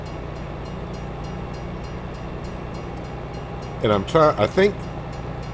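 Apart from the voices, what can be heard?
train passing by in video game Farm Sim 22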